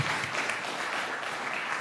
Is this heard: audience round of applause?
yes